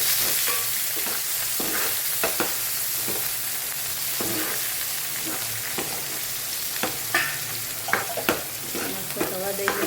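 Onions and tomatoes fry in oil with plenty of asafoetida for a spicy kadhi, giving a steady sizzle broken by frequent scraping stirs of a spoon in the pan, with no talk.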